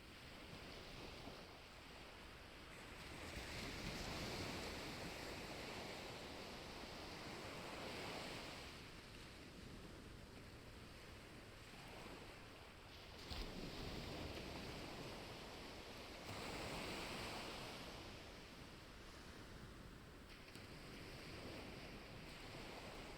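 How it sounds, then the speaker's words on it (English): Ocean waves wash onto a beach in slow, swelling surges, each rising and fading over a soft, constant rush of surf and wind. "I'll just close my eyes and listen to the waves."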